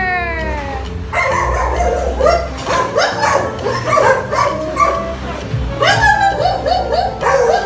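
Several dogs bark and yelp repeatedly at close range on New Year's, the barks coming in quick overlapping bursts with a short lull midway.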